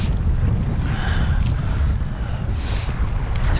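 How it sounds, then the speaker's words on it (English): Wind and swell batter a small dinghy in Kingsbridge Estuary, a loud continuous rumble of gusts buffeting the microphone with splashing water beneath, no pauses. "Protection from this wind and swell here."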